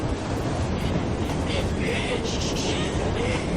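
Train rumbling along in the video game Assassin's Creed Syndicate, a dense continuous roar and rattle with brief higher bursts, while characters talk over it.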